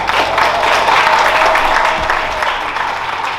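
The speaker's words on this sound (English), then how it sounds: "Adi, a round of applause." Audience applause fills the room at a masterclass event in Ghana, a dense steady patter of many hands clapping at once, loud and continuous.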